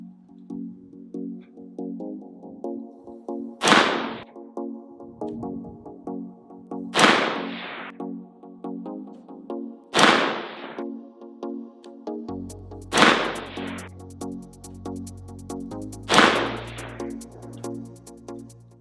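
Daniel Defense DDM4 V11 Pro 18-inch AR-15 rifle fired at a range, five sharp loud shots spaced roughly three seconds apart, each cracking and ringing out over steady background music.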